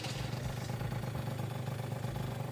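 A Yamaha BWS 70cc scooter engine runs steadily while being ridden, a continuous mid-pitched motor drone with light mechanical clatter, close and fairly even throughout.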